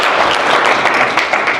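Audience applause for a woman named Ellen at a charity talk, steady dense clapping from a crowd filling the whole moment without speech.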